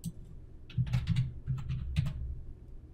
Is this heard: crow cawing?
no